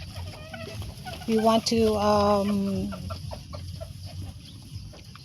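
Bantam chickens on a small farm cluck in short, repeated calls with a louder burst of squawks in the middle, fairly close, while a person talks briefly over them.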